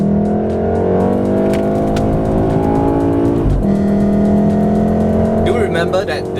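A VW Golf 4Motion with all-wheel drive drifts on Sepang Circuit's greasy, rain-wet track, its engine holding a loud, steady high-revving drone that dips briefly at a gear shift, with a hint of tire noise near the end.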